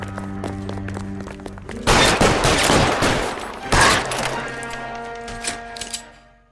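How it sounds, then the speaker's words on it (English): Bursts of rapid gunfire in L.A. Noire, two heavy volleys standing out over a dense, continuous backdrop of game sounds and music. "Shots fired."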